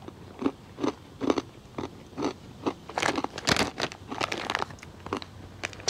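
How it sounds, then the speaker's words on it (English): Someone bites and chews seasoned Brim's pork rinds up close, producing a series of sharp crunches that build into dense, crackly chewing with no talk. "These are about the right amount of crunch that I want."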